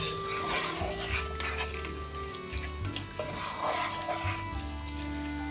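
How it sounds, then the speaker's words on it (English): Onions and garlic frying in a pan for a Maltese pasta dish, a quiet, steady sizzle with occasional stirring scrapes and clinks close by. "mixing the onions and the garlic and let them cook until they get a bit of brownish color."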